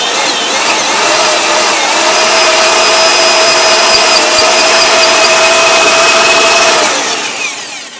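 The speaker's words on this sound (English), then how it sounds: "we're going to go ahead and drill out this top one here and see how it goes" A power drill with a high-grade Irwin bit drills out the top rivet of a broken window regulator on a BMW E36, a steady, loud, close whine with tonal lines that holds for about seven seconds before tapering off.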